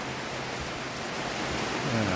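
Steady rain pours at a farm hut in rural fields, a dense, even hiss of drops drumming on surfaces, close and constant with no pauses or voices.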